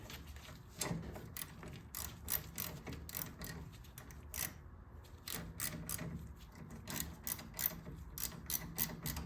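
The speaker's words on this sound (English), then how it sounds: "I just noticed that the ratchet was bottoming out on the floorboard." A ratchet wrench clicks rapidly in close, repeated bursts while working on the floorboard of a 2009 Police Special motorcycle, with a brief pause midway.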